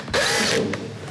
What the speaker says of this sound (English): we can go ahead and re-secure the base pan with the 4 T20 screws we removed earlier